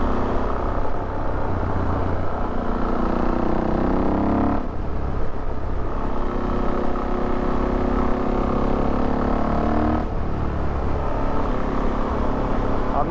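Suzuki DRZ 400 SM supermoto motorcycle riding along, its steady engine drone loud and continuous with wind noise, briefly shifting pitch around gear changes, with no speech.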